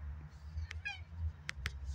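A cat gives a couple of short, rising meows close by, with a steady low hum running underneath and no talking.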